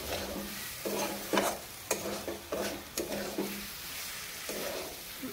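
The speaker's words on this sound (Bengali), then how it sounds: "আলুগুলোরে ভালো করে ভাজুন।" Potatoes fry in a pan, a steady sizzle broken by rhythmic stirring scrapes and a few knocks of the spoon, close up with no voices.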